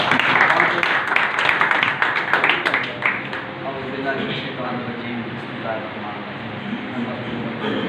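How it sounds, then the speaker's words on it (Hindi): Audience applause fills the room at a speaking event in Punjab, strong and dense at first, then thinning and fading toward the end. "तालियों से"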